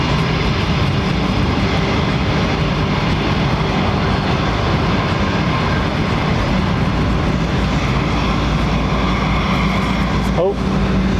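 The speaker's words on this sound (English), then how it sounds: "Listen to those Trents humming away." Rolls-Royce Trent aircraft engines at London Heathrow Airport give a steady, loud broadband hum that fills the whole stretch without letup, with a brief click near the end.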